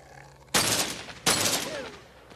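Two sharp bursts of gunfire in the game The Walking Zombie 2: Zombie Shooter, each a loud broadband blast that rings out briefly, the second following about three-quarters of a second after the first.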